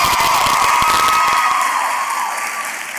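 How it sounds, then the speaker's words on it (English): A crowd at an Indian classical dance debut bursts into loud applause and cheering, with whoops and shouts over dense clapping that gradually thins and fades. "And one more round of applause."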